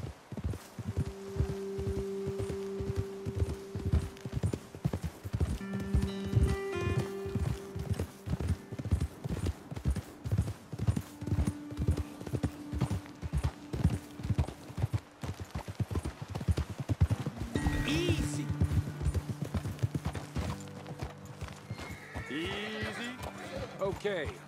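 Horse hooves clip-clop steadily at a walking pace in the Red Dead Redemption 2 video game, with an occasional whinny, under ongoing speech and background music.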